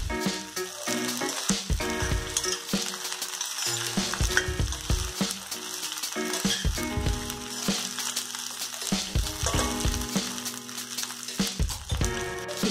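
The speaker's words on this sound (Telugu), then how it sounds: "బాగా కలుపుకొని ఒక 2 నిమిషాల పాటు ఫ్రై చేసుకోవాలి." Okra pieces frying in oil while being stirred for a lady's finger curry. A loud, busy sizzle runs throughout, with frequent clattering scrapes and knocks of the spoon against the pan, close up and without talk.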